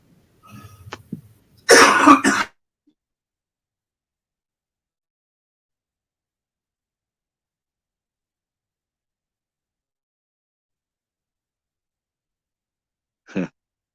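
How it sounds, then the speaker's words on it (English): A few quick coughs close to the microphone, followed by long silence and one more short cough near the end. "He sleep on the couch over here and woke up coughing."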